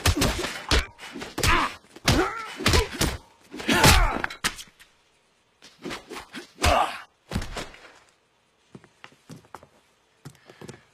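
Heavy punches land in a fistfight in the video game LA Noire: a run of close, loud thuds and smacks in irregular bursts with grunts mixed in, then quieter scuffling toward the end.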